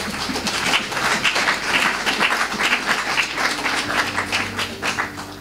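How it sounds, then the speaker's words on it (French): A church congregation at an Easter service applauds together, a dense, steady wash of clapping from many hands that holds for several seconds, with a faint hum underneath. "je pense que vous pouvez acclamer pour vous-même"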